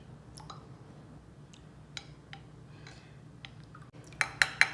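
A spoon clinks and taps against a bowl or pot while soy sauce is stirred into fat-free gravy, with faint light clicks early on building to several louder, sharper clinks at the end.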